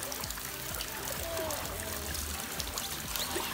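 Steady, soft trickle of water falling into a large pool, close by, with a faint murmur of voices in the background.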